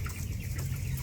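Young chickens, 21 days old, cluck and peep steadily while being fed, a close, continuous flock chatter with no talking.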